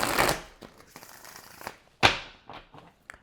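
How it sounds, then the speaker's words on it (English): Tarot cards being shuffled by hand, a burst of riffling at the start followed by softer shuffling and a few sharp card snaps, close and alone. "Because I shuffled them cards facing each other."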